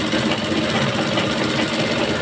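A sewing machine runs steadily while stitching a salwar, giving a loud, continuous mechanical whirr with no breaks or talk.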